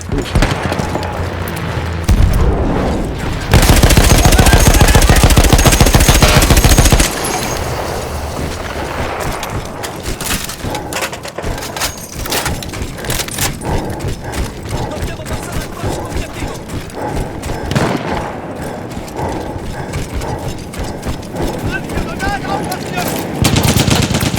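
A mounted machine gun in Battlefield 1 fires long, loud sustained bursts, with a heavy continuous stretch near the start followed by steadier rapid fire mixed with battle noise.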